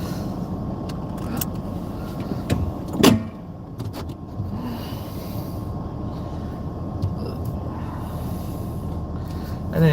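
A car driving steadily, with a low continuous road and engine rumble inside the cabin, a brief louder knock or bump partway through, and faint voice traces.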